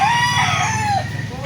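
Chickens on a farm cluck loudly and close by while feeding, with a rooster's crow rising through the brief burst and no talk.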